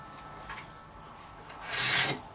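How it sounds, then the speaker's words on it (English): A hand scraper drawn along wooden binding makes a dry, rasping scrape: a few faint short strokes, then one louder, longer pass near the end, close and on its own. "Move the scraper to you or away from you, doesn't matter."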